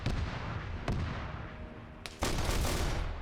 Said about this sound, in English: it's a heavy bolter, is a little more brutal than I thought it would be